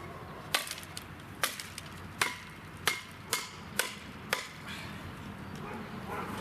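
A hammer strikes a titanium shovel seven times in a fairly even rhythm, each blow a sharp, ringing knock up close, followed by a short quieter stretch.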